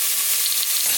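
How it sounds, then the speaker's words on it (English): Beef pieces for stew browning in a hot pan, giving a steady, close, continuous frying sizzle with a bright hiss throughout and no talking. "You just want to do all the sides just so it's slightly browned"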